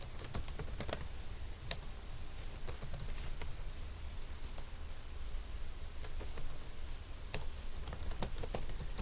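Keys clatter on a computer keyboard while text is entered in Microsoft Word, in a steady stream of close, quiet taps with a few sharper, louder keystrokes standing out.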